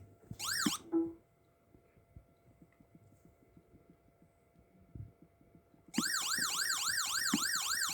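A homemade electronic police siren circuit wails rapidly and briefly, cuts out to quiet clicking and handling noise, then starts again loud and continuous near the end.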